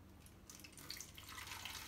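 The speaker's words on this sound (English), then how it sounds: "I'm gonna pour this back into this container since it has a pour spout" Water is poured from a jug into a container with a pour spout while applying Azamax to houseplants, giving a steady, soft trickle and splash up close that builds slightly over about two seconds, with no talking.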